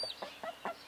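Baby chicks peeping softly nearby, three short high chirps spaced evenly over under a second, faint and alone.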